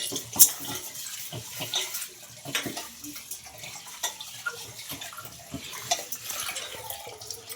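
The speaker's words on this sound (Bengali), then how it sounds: "আমাদের জল আসছে পাইপে।" Water flowing in through a pipe in a home kitchen, a steady splashing rush with irregular gurgles and small knocks, moderately close and continuous, with no talking.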